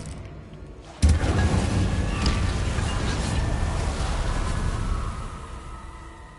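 A fire spell bursts on with a sudden loud whoosh in Hogwarts Legacy, then roars as a broad, rushing crackle that holds for several seconds before slowly fading.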